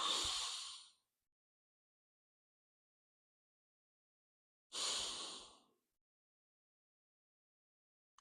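Two slow, deep breaths during a yin yoga pose, each a soft, close airy exhale lasting about a second, separated by a long stretch of silence.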